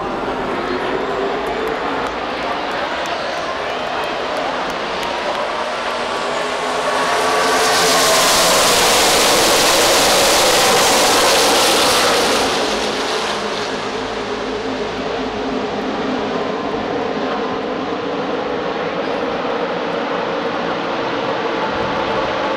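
NASCAR stock cars roar past on track at a restart after a blown engine, a continuous loud engine drone that swells to a close, intense peak midway as the pack passes, then settles to a steady distant roar.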